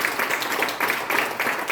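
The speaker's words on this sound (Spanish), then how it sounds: "Démosle un aplauso grande al Señor" A church congregation gives a big round of applause at a worship service, many hands clapping in a moderately loud, rippling wash that swells and dips in uneven pulses.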